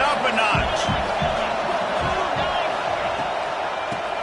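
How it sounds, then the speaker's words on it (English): A football stadium crowd roars in a constant loud wash of noise while a commentator talks over it. "this crowd is turning it up a notch"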